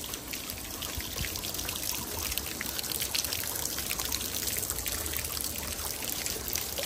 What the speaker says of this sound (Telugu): ఈ గోముఖాల్లో నుంచి వాటర్ వస్తాయి ఇలాగా బయటికి